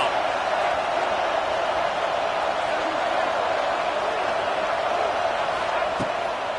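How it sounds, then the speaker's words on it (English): A football stadium crowd roars steadily and loudly during a third-down defensive stand, a dense continuous wash of cheering and noise that holds throughout with no letup. "Decibels rising as the crowd gets behind this defense on 3rd down."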